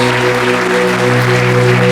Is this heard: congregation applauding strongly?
yes